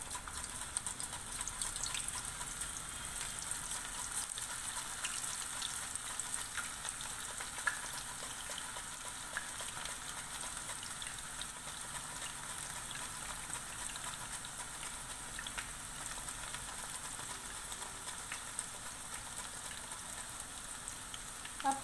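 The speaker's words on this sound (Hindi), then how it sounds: "इसे हम अलग पलट करके तल लेंगे।" Raw banana wafers fry in oil in a kadhai, giving a steady, dense sizzle and crackle that runs continuously at moderate level with no speech over it.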